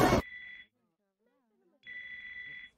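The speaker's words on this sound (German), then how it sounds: "dieses Klingeln, das kommt aus deinem Rücken" A mobile phone rings from inside a man's back in a cartoon scene: a thump, then a shrill electronic ring, a pause, and a second ring burst, close and clear.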